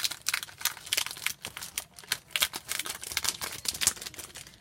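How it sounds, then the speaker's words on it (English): A large Chalk Couture transfer sheet is pulled from a plastic bag, making rapid, close crinkling bursts. "I'm going to take it out of the plastic bag that it's in."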